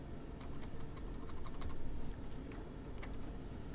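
Rapid keystrokes clatter on a computer keyboard while a math expression is entered, steady clicking with a few louder taps over a low background hum, no talking.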